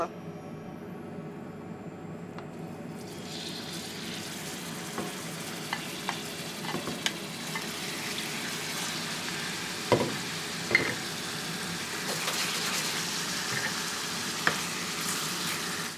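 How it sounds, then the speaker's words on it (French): Chicken breasts searing in melted lard in a pan give off a steady hiss and crackle, with occasional utensil clinks and scraping stirs spaced through it, fairly close and moderately loud throughout. "je vais rajouter les blancs de volaille pour un peu les cuire"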